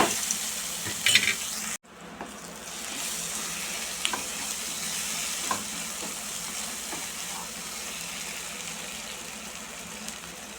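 Steady sizzling of hot oil with spices frying as tempering for ridge gourd chutney, a brief clatter and pause near the start, then a constant crackling hiss with occasional pops.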